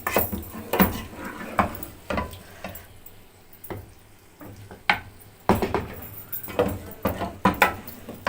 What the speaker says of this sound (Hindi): फिर इसमें हम चावल डालेंगे।